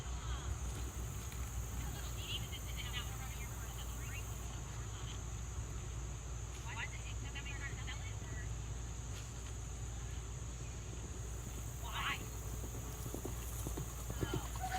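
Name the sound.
horse hooves clip-clopping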